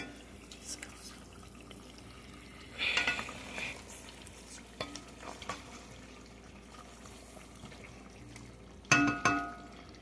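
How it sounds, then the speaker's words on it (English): A spoon stirs a simmering beef stew in a pot, giving a few short scraping and clinking bursts against the pot amid soft bubbling, fairly close and quiet. "Now we're going to check on it and stir."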